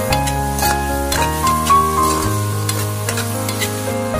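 Dried tofu being stir-fried in a wok with chilli and salt, a steady close sizzle with stirring scrapes under a bed of background music.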